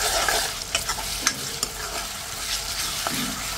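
Onion with ginger-garlic paste frying in a pan, a steady close sizzle with intermittent stirring scrapes and clicks, no voices.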